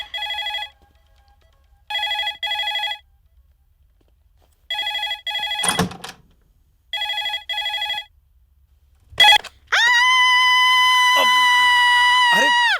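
A telephone ringtone sounds in repeated clipped bursts, several short rings separated by pauses, followed by a longer sustained ring tone, in a scene from a Hindi-dubbed South Indian feature film.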